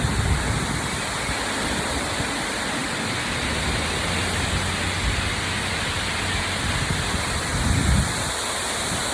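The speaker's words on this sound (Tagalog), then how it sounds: "Ganda ng falls." The waterfall at Khor Fakkan, UAE, pours in a steady, dense roar of rushing water that fills the scene without a break.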